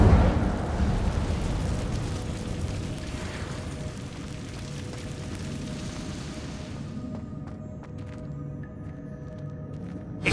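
An Incendio fire spell bursts inside a cave in the wizarding game Hogwarts Legacy, a loud rushing flare of flame that sustains and then fades into quiet, with faint clicks at the end.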